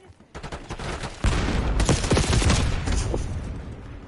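Explosive blasts and rapid gunfire from Call of Duty Black Ops 6 after an enemy grenade lands, starting with scattered shots and building into a dense, loud, sustained barrage.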